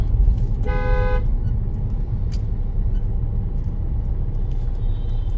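Traffic jam on an Indian road with an idling car engine rumbling close by and a single short horn toot early on, plus faint distant vehicle noise.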